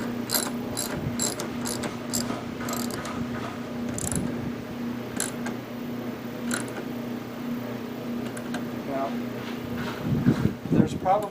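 A ratchet tightens the windshield wiper bolts on a Chevy S10 pickup, rattling out quick bursts of sharp clicking strokes, near and crisp, over a low steady hum, with a few heavier clanks at the end.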